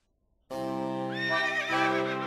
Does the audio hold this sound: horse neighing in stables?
yes